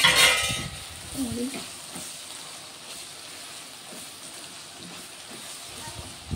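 Eggplant frying in a pan, a soft sizzle under occasional stirring clinks of a utensil, with a brief burst of louder noise at the start.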